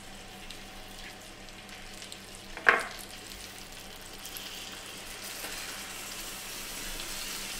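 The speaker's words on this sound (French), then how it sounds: "on va les faire cuire donc, dans une poêle beurrée à feu très très doux" Trout cooking gently in a buttered pan over very low heat gives a steady, quiet sizzle throughout, with one brief sharp clink of a utensil partway through; no one speaks.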